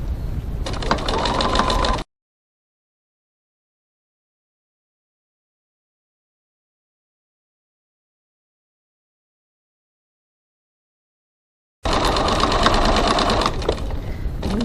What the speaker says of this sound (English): going to go over to the sewing machine and starting where we left off last time, stitch the rest of the seam